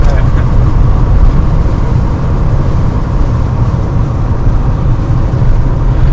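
Porsche 911 Carrera 3.2 flat-six lugging at low revs while driving, a loud, steady, deep engine drone with road rumble, heard from inside the car without talk.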